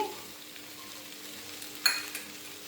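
Chicken fries quietly in a pan under a steady low hiss, with one brief scrape of stirring near the end and no voices.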